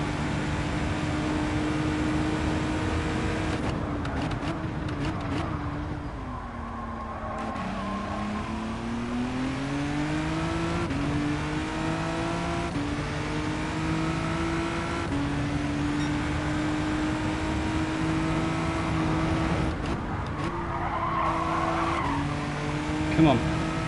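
Race car engine in Gran Turismo 7 shifting through the gears, revs sweeping down on a downshift and then climbing steadily, with tire squeal, loud and continuous under occasional talk.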